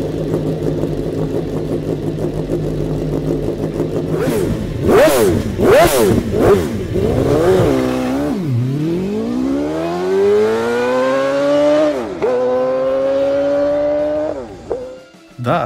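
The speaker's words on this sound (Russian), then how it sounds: "Да, так звучит оборотистый V8." A homemade motorcycle with a high-revving V8 engine blips and roars through repeated sharp revs, then climbs into long rising pulls that drop and climb again, loud and close, with one short exclamation from a person.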